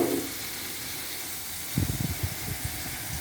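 Water poured into a blender holding onions and potatoes in a home kitchen, a short splashing gush after a quiet hiss, close and moderately loud, no talking.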